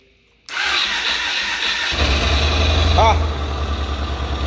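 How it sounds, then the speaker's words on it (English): Yamaha Road Star Warrior motorcycle engine cranking with the starter, catching, and settling into a loud, fast, high idle close by, with a brief exclamation at the start. "All right, let's get this thing started."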